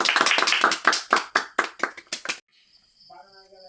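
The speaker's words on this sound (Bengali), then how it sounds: "সবাই হাততালি দাও সবাই হাততালি দাও" A group of young children clapping together in a classroom, about a dozen quick, fairly even claps that stop abruptly, followed by a faint tonal sound.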